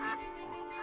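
One short, nasal duck quack, clear and close.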